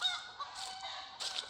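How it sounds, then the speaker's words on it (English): Chickens and roosters perched high in trees near a temple in Thailand give faint, distant honking calls around dawn, a few short squawks in quick succession, with no talking. "chickens and roosters in the trees"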